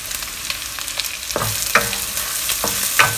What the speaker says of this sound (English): You add in one bunch of curry leaves now.